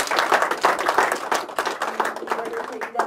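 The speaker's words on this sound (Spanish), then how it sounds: "vamos a darles un aplauso" Scattered clapping from an audience at a book presentation, a fairly small group applauding with uneven, individual hand claps, with voices murmuring underneath throughout.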